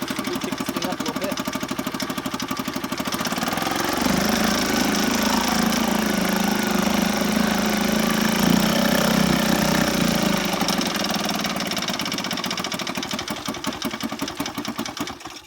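A 1968 Sears Clinton 3.5 hp outboard engine runs at high speed, a loud, steady, rattling drone that swells and thickens midway before easing back slightly toward the end.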